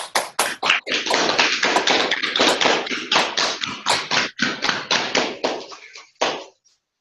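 Fast, loud hand clapping during a qigong warm-up in a tai chi class, a steady run of sharp, close claps that rubs the hands warm, with a short pause before a final clap.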